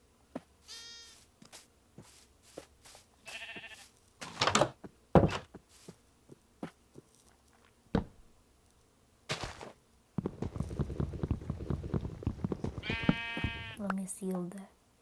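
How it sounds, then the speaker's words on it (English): Sheep on a farm bleat in short wavering cries scattered between thumps and clatter, with a burst of louder noise near the end; a person talks in between the calls. "Oh, the sheep."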